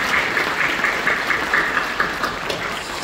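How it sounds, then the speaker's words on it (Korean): Sustained applause from a church congregation, a dense steady patter of clapping with no voices over it. "박수로 격려해 주시죠."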